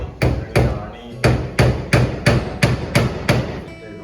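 Hammer strikes driving nails into a wooden name plate, about nine sharp, evenly spaced blows close up with a short pause after the second, no talk.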